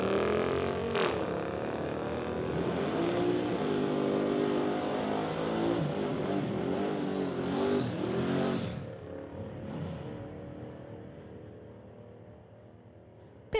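Dodge Durango and a Mazda launching side by side at a Friday night street-legal drag race, engines roaring loud and sustained with rising revs, then fading as the cars pull away down the strip.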